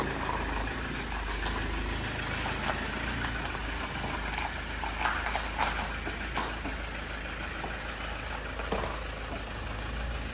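Mahindra Scorpio 4WD engine hums steadily while driving, a continuous low drone with road and cabin rumble, occasional faint rattles, and no talk.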